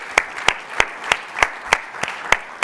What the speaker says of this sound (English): How about a round of applause for all of our judges and all the finalists today?